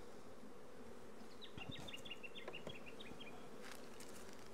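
Honey bees buzz around a drone-trapping comb at a hive in the Orara Valley, a steady close hum with single bees whining past now and then, and no voices.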